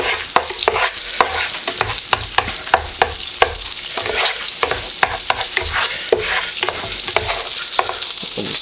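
Butter melts in a pan for chicken fried rice with a loud, continuous close sizzle, punctuated by repeated sharp utensil taps and scrapes against the pan.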